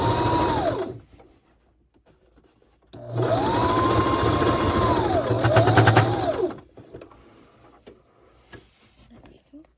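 A ribbon skirt being double stitched on a sewing machine: a short whir at the start, then a sustained steady motor hum lasting a few seconds before it stops, close and loud, with quiet pauses between.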